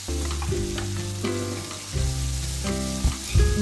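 Onions with a little salt and sugar sizzle steadily in hot oil in a pan while making chilli chicken. The frying noise runs throughout at close range, with a few louder bursts and tonal music playing underneath.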